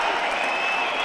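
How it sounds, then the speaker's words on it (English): Judo arena crowd at a Grand Prix in Tbilisi roaring in cheers, a dense, steady wash of many voices filling the hall loudly throughout. "The crowd have just erupted as well."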